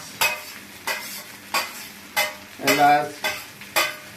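Cardamom and whole spices fry in a hot pan while being stirred, with a regular series of scraping stir strokes about every half second over a light sizzle, no talking.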